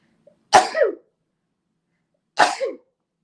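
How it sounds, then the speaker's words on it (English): Two sharp sneezes about two seconds apart, close and fairly loud, with silence between them. "I'm going to sneeze, I think."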